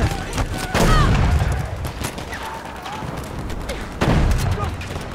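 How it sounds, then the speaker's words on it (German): Grenade blast and gunfire in Battlefield V: heavy bursts of rapid shots and booming impacts in two loud waves, with a player talking over the combat noise. "Jetzt kommt eine Granate!"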